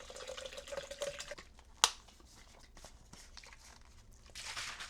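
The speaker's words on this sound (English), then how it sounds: "And all I just do is add water." Water poured into a pre-workout shake gives a short splashing run, a sharp click, then softer trickling and handling noise, all close and fairly quiet.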